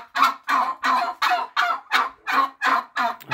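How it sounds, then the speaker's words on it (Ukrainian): Bourbon turkeys gobble in a steady series of loud, close rattling calls, about nine bursts in quick succession with short gaps. "Дуже гарні породисті індики."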